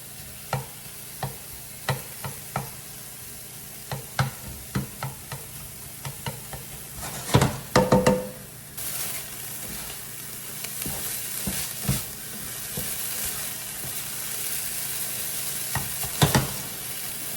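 Diced ham frying in a pan for breakfast fried rice: a quiet continuous sizzle broken by regular clinks and scrapes of a utensil stirring, with a brief louder clatter of stirring midway.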